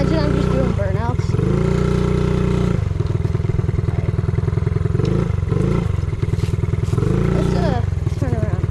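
A small mini bike engine screams and revs repeatedly during burnouts, loud and close, with sustained high-revving stretches broken by brief drops and blips, while a person talks over it.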